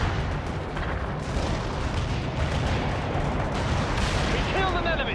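Dense, continuous battlefield gunfire and rumbling artillery from the game World in Conflict during a Soviet assault fill the scene with a constant loud roar, with voices faintly beneath it.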